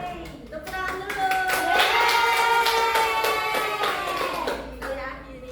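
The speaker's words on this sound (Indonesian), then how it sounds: "Tepuk tangan dulu" A classroom of fourth-grade primary school children clapping their hands together, a dense burst of applause that swells and holds steady for several seconds before tapering, with children's voices calling out over it.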